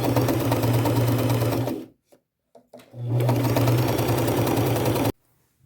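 A sewing machine straight-stitches close to the edge of fabric patches with gold thread, running in two steady whirring bursts separated by a brief pause, then stopping abruptly.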